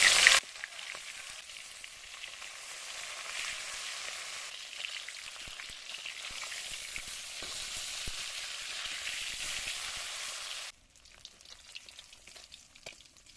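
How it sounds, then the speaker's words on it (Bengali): Bata fish fry in hot mustard oil in a pan, a steady close crackling sizzle with small pops that runs for about ten seconds and then drops away, with no talk. "তেল গরম হয়ে গেছে, এবার মাছগুলো দিয়ে ভেজে নেব।"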